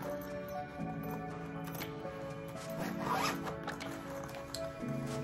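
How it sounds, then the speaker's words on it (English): The zipper on the pocket of a MacBook Air case is pulled open, making a close, continuous raspy zipping sound that lasts several seconds, with soft music playing in the background. "you have to open it with the zipper"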